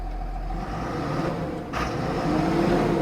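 A tractor with a Perkins engine runs nearby, giving a steady mid-low rumble with a short burst of broadband noise partway through and a faint whine toward the end, without talk.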